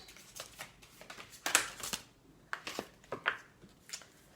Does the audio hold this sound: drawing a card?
yes